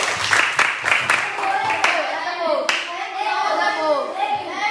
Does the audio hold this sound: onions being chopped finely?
no